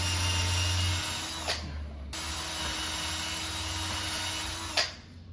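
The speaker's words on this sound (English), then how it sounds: "Just as I was drilling the last of the pilot holes" A power drill bores pilot holes in wood while building a workbench, a steady whirring motor hum running in two long passes separated by a short pause, each ending with a faint click.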